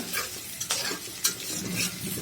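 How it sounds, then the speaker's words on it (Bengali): Fresh bottle gourd stir-fried in a pan with spices: a close, steady sizzle broken by repeated scraping stirs, with no talking. "আমি আজকে আগে লাউগুলো কষাবো, তারপরে চিকেন দেবো।"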